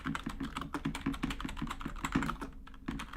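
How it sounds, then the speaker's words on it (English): Rapid, hard typing pounds a computer keyboard, a dense close-up rattle of individual key strikes in quick uneven bursts, with a brief pause near the end. "I'm beating up my keyboard."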